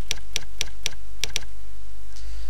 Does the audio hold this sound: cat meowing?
no